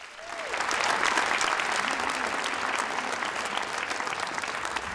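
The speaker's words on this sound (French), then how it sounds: "On peut leur donner une bonne main d'applaudissements" Sustained audience applause for more than 60 students being honored at a student award ceremony, a dense, steady wash of clapping from a large crowd, loud and even throughout.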